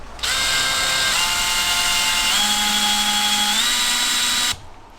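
A power drill whines continuously for about four seconds while drilling into a Fiat Ducato van roof for a roof fan install, its pitch stepping up and down as it bites, then stops abruptly.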